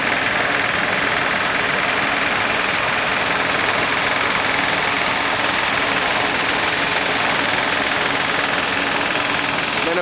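Big tractor engine running steadily at an olive harvest in Muro Leccese on a December morning, a continuous broadband rumble with knocking undertones that holds level throughout with no pauses.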